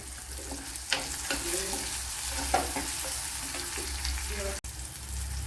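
Tomatoes fry in a pan with turmeric and a pinch of chili powder for a Kerala dal and drumstick-leaf curry, giving a steady close sizzle with a few sharp stirring scrapes and clinks and no talking.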